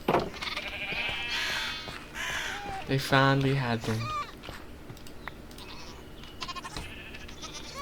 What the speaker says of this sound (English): Are those little baby sheep?